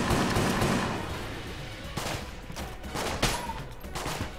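Rapid game gunfire from Enter the Gungeon, loud clustered bursts of shots with sharp transients landing in quick pairs over a dense, busy background of effects.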